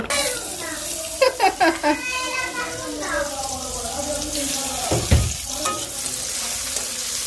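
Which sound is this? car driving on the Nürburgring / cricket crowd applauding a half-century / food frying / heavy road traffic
food frying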